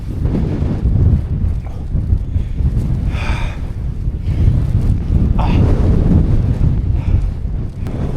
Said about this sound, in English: That is definitely on the breezy side. All right, I think we've shown enough wind